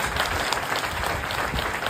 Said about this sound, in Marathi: त्यांना झोपेतून उठवण्यासाठी एकदा जोरदार टाळ्या झाल्या पाहिजे